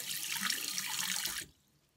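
Tap water runs steadily onto a bar of West African black soap for about a second and a half, a close, even hiss and splash that stops abruptly, leaving near silence.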